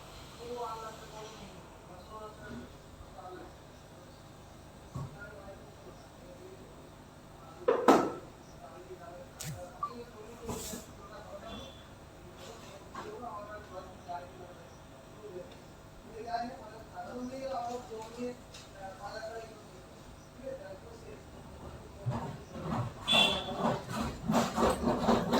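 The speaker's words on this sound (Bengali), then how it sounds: "পেঁয়াজগুলোকে খুব ভালো করে ভেজে নেব।" Onions fry in a pan with a soft, steady sizzling hiss that swells toward the end, heard faintly beneath occasional voices and a few sharp clinks.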